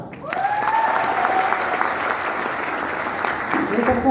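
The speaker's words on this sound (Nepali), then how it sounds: "बहुत ग्रेट, बाफ्रे, जोरदार ताली" Loud, sustained applause from a crowd fills the clip, with a voice briefly rising over the clapping.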